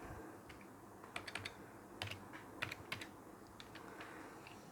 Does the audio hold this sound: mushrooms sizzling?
no